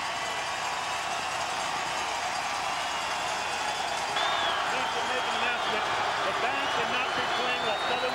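Football stadium crowd roaring during a Southern Miss versus South Florida game, a broad continuous wash of distant voices that swells partway through, with a commentator talking over it.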